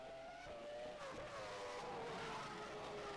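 Formula One car racing at Silverstone in rFactor 2, its high-pitched engine wailing steadily and loudly close by, revs climbing through the gears with a brief dip, continuous throughout.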